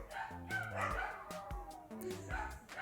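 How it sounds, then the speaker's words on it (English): A pet dog barks in the background, several short yips and barks in quick succession, fairly distant and moderately loud, with no other prominent sound. "Hopefully you can't hear my dog barking in the background."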